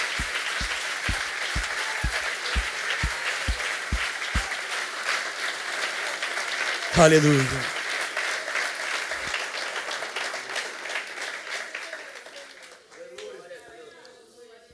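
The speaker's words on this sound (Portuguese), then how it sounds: "Dê um aplauso bem forte ao Senhor Jesus" A congregation in a Brazilian evangelical church claps loudly in strong applause. A low thumping beat runs through the first few seconds, a voice calls out partway through, and the clapping fades into murmuring at the end.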